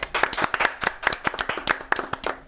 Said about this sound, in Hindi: चूंकि जोर जोर से तालियां बजा रही हैं